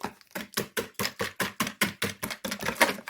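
Eggs and sugar are beaten in a bowl, a fast, even series of about a dozen clacking strokes, close up and steady.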